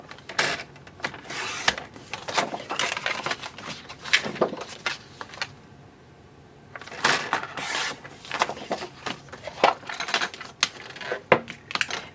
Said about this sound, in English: the base of our card is Mossy Meadow, and what we're going to do is cut these in half at 4 1/4